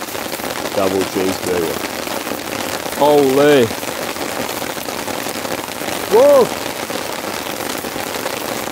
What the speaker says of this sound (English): There's so much rain. It was a heavy rainstorm.